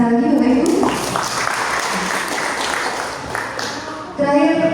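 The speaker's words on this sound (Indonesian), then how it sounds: "Boleh berikan tepuk tangan sekali lagi" An audience gives a round of applause, a sustained mass of clapping filling the room, with a voice speaking over it at the start and again at the end.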